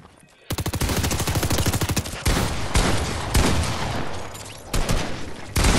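Rapid automatic gunfire in the video game Fortnite, bursts of loud shots in dense rhythmic volleys with brief pauses between, close and dominant throughout.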